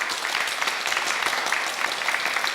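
An audience applauds steadily at a panel discussion on national architecture, a dense, even clatter of many hands that holds at moderate loudness throughout.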